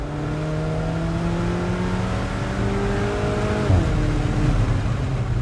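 A 2017 Alfa Romeo 4C Spider sports car in manual mode drives through turns, its engine droning steadily with pitch rising and falling between gear changes, up close and with no talk.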